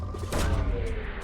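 A probe launching in Mass Effect 2, a short whooshing burst with a deep boom underneath that decays quickly.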